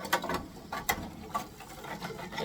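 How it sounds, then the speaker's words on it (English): Whisking a thickening liquid, likely gravy, in a pan during a from-scratch Thanksgiving meal: a run of quick, light clicking and scraping strokes at close range, uneven in rhythm and fairly quiet, with no talking. "Just going to keep whisking that up."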